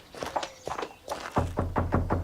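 Knocking on a castle door, a run of dull wooden thunks, sparse and uneven at first, then a quicker, heavier series of knocks toward the end, close by with faint voices around.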